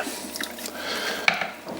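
Clay being thrown on a pottery wheel with water: soft wet drips and squishy splashes, faint and irregular, with one sharper drip near the end.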